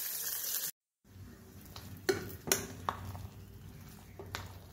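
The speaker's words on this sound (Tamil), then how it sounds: "இதோட இஞ்சியும் போட்டுக்குவோம். வதக்கட்டும், தாளிச்சிடும்." Ginger, cumin, pepper and curry leaves sizzle in hot oil while tempering for a pongal dish, a soft steady frying hiss broken by a brief silence and then several sharp pops and spatters.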